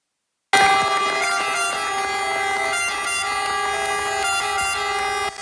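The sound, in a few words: fire engine sirens at a funeral procession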